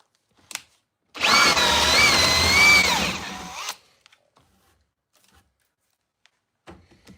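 A Bosch 7/8 inch paddle bit on a power drill bores through wood in one loud, steady burst of about two and a half seconds, with the whine rising and falling slightly, followed by a few faint clicks and knocks.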